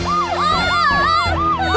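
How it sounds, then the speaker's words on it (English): A wailing emergency siren in the cartoon Tayo the Little Bus sweeps up and down repeatedly, loud and close, with a low engine rumble underneath. "Hey, isn't that a siren?"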